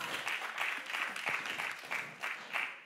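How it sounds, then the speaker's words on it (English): A church audience applauds steadily, a dense wash of clapping that rises and falls in soft waves without a clear break, with no talk over it. "give them a round of applause"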